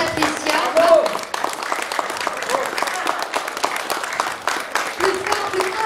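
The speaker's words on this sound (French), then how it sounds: "Je vous demande d'applaudir Sylvie Belbez et Patricia." Audience applause for performers after a play, a brisk crowd of clapping hands with occasional voices calling out over it, lasting throughout.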